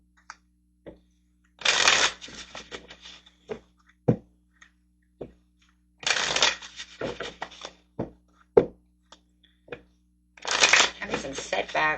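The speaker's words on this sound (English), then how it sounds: "let's get some tarot cards over here" A tarot deck shuffled in three bursts of bright, rapid card riffling, close and loud, separated by quiet gaps with scattered card taps and brief handling sounds.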